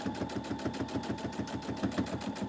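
A sewing machine stitches a Dresden wreath quilt, running steadily at close range with a fast, even mechanical rhythm and no talking.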